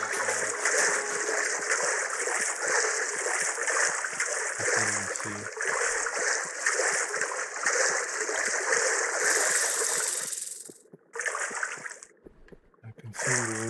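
Steady splashing and sloshing as a character wades through water at night in the game Dark & Light, a continuous close churning with rhythmic footfall-like splashes that briefly stops near the end and resumes faintly.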